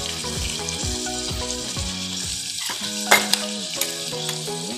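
Onion frying with garlic-ginger paste sizzles softly in the pan while tonal music plays over it, and a few small clinks and splashes come near the end.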